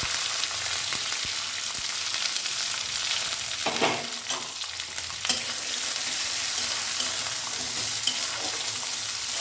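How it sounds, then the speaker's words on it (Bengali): Chopped vegetables for chirer polao (poha) are tossed into hot oil already seasoned with curry leaves, and they sizzle steadily throughout. A few louder stirring scrapes come through partway, and no one speaks. "এই যে সমস্ত সবজি কেটে রেখেছিলাম সেগুলো এই তেলের মধ্যে দিয়ে দেবো।"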